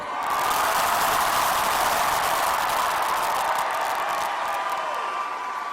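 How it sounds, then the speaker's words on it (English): Large rally crowd in Oklahoma City roars and applauds continuously, a loud, dense, unbroken wall of cheering and clapping that holds steady before easing slightly at the end. "This is a beautiful crowd, and this is a loud crowd."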